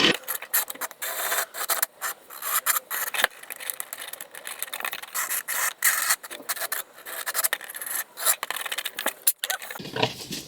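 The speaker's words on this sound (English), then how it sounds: "The carbide actually seems to work a lot better to clean that up than the diamond burr did." Carbide burr grinding plastic on a Nissan GTR Skyline R34 headlight housing, a close, harsh rasping and scraping in short uneven bursts with brief pauses, steady in tone over about ten seconds, with no talking.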